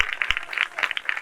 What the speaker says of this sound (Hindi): उस नाम के लिए जोरदार तालियां बजाइए